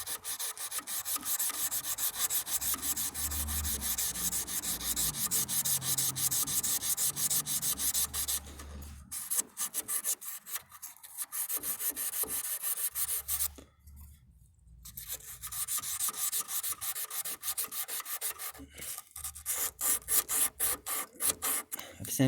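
Close, steady hand sanding at the door hinge area of a 1958 AMC Rambler Super, long rasping strokes repeating with brief pauses between passes and no talking.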